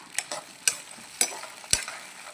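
Chopped tomatoes frying in a pan for red chutney are stirred in a few quick scrapes over a soft, steady sizzle, quiet and close.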